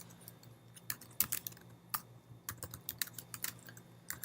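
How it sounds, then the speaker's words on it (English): Fingers tap out a quick, irregular run of clicks on a computer keyboard, close and quiet, with short pauses between bursts of keystrokes. "type that into the search bar"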